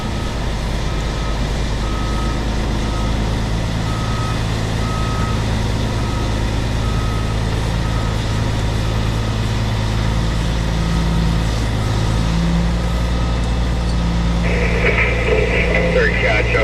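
A truck with a trailer backs straight up, its reversing alarm beeping in a steady, regular rhythm over the loud, constant rumble of the engine, with a voice heard over it.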